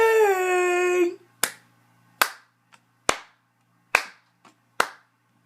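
Sharp hand claps indoors: six loud, separate claps at uneven intervals of roughly a second, following a brief high tone at the start, with faint softer taps between them.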